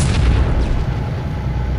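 Rocket striking a gun in a Halo game, a loud deep explosion boom that rumbles and slowly fades over a couple of seconds.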